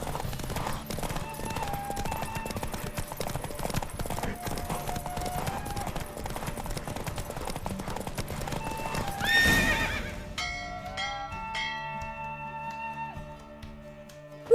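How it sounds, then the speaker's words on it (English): Horse hooves clip-clop at a rapid gallop in The Witcher 3, with a whinny and a busy game soundscape around them, close and steady for about ten seconds before the riding sound drops away into quieter music. "Don't spare the horse! I adore the speed, the rush of air."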